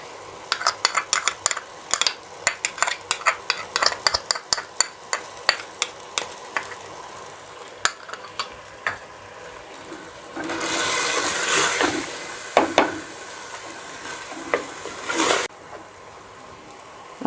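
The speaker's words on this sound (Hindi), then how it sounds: "इस स्टेज पे मैं इसमें 1 टेबलस्पून के बराबर लहसुन और 2 टेबलस्पून के बराबर अदरक डाल रही हूँ" Garlic and ginger scraped and stirred with a metal spoon in a hot frying pan, a run of quick clinking strokes followed by a rising sizzle and a few more scrapes.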